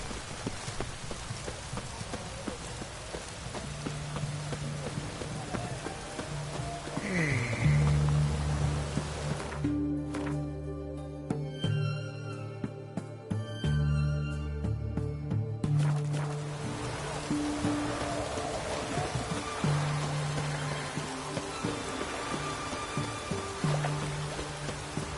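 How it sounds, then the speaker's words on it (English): Steady rainfall in The Witcher 3 video game patters as a constant hiss of drops, joined by tonal game music or ambience in the middle stretch, with no clear speech. "It's raining, of course it's going to be damp."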